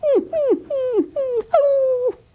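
A human voice imitates a dog, giving five whining, whimpering cries in quick succession, each a falling nasal yelp, close and loud.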